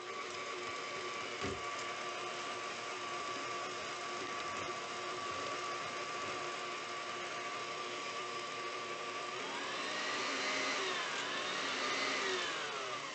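Electric mixer with a whisk attachment mixing batter of egg and vanilla, giving a steady, continuous motor whir at even loudness that rises slightly in pitch toward the end.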